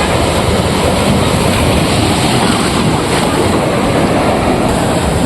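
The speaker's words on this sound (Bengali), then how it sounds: "ভালোই ঢেউ বাড়ছে এবার ধীরে ধীরে।" Sea waves rolling in with the rising tide at the Old Digha Mohana shore around sunset: a loud, continuous roar of surf mixed with wind buffeting close by.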